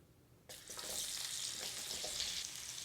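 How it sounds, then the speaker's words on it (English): Onions suddenly hit hot fat in a skillet and a bright, steady sizzle takes over, loud and close, continuing without pause. "I'm gonna go ahead and add in the onions to the skillet"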